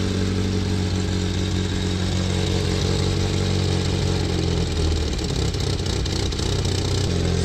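A Mini car engine runs steadily at idle as its air-fuel mixture is adjusted, a loud, close, continuous drone with a slight shift in tone toward the end and no talk over it.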